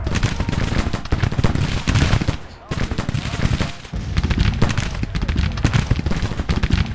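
Dense, continuous musket and rifle volleys with artillery booms in a Civil War battle game, loud and sustained with a brief lull near the middle and some faint voices under the firing.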